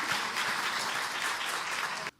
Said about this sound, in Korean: 하나님의 영광의 박수 돌립니다